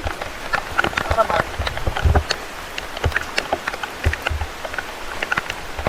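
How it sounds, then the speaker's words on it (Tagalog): Rain patters steadily with scattered close drops and taps, a continuous wet hiss throughout, with faint voices in the background. "medyo humihinto na yung ulan"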